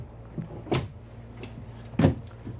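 A small storage drawer opens and closes in the bathroom of a 2026 Newmar Grand Star 3444 motorhome, giving two distinct close wooden clunks with softer sliding knocks between them in a quiet room.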